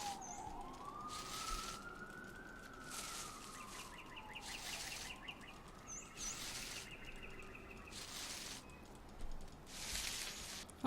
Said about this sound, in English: apologies if you could hear the police cars in the background